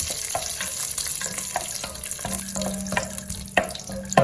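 Cashews and curry leaves sautéing in a pan, a loud crackling sizzle up close with repeated spatula scrapes and clanks against the metal.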